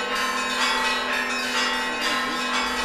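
Bells of a newly consecrated Russian Orthodox church ring out, a sustained, overlapping metallic peal with layered tones and renewed strikes, loud and close, with no voices.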